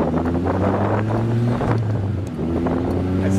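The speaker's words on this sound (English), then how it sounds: "Let you hear the motor, let you hear it run." Steady engine drone from a 2011 Joyner Renegade four-seat 4x4 UTV with an EFI motor and five-speed gearbox, driving across a parking lot, a loud continuous low hum with a slight pitch shift midway and wind buffeting over it.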